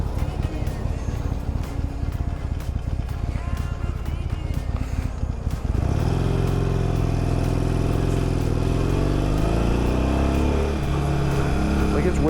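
A Harley Sportster motorcycle engine rises in pitch as it is ridden out through the gears. The close, loud revs climb after a stretch of rushing wind noise.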